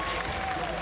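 Crowd applause after a rear naked choke submission at a professional grappling match, a steady dense clapping wash held at an even level throughout the short moment.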